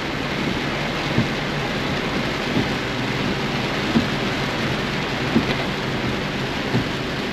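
Heavy rain pours steadily in Happy Homes Fairview, a dense, loud, unbroken hiss with faint periodic thumps beneath, and no one speaking.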